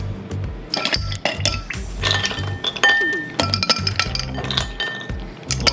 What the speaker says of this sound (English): Also I put my ice in.